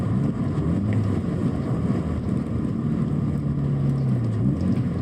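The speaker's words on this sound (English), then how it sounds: "here now, coming to a stop, I'm going to downshift and actually know what my car's doing" A loud car downshifting as it slows to a stop, the engine note dropping and rising under heavy, steady wind noise close to the microphone.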